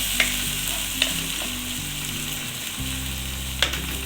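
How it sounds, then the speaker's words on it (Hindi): Chopped tomatoes frying in oil left over from cooking okra, a constant close sizzle with a few light clinks of the spoon against the pan, under a low background hum. "ये हमने 4 अदर टमाटर थे जो काटे हैं, इसी ऑयल में हमने फ्राई करने हैं।"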